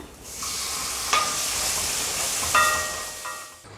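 Garlic sautés in hot oil in a pan for Tamil garlic rasam, giving a loud, steady sizzle close up, with a couple of sharp metallic scrapes from stirring.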